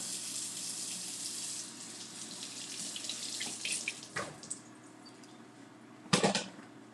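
Tap water runs steadily into a kitchen sink while an apple is rinsed, with a few louder splashes and knocks near the end.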